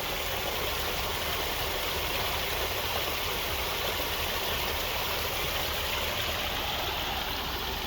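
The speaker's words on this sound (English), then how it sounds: "Here's a fountain that they've got," Continuous broadband rush of falling water from a fountain or waterfall at an outdoor human rights memorial, loud, close and steady with no pauses or voices.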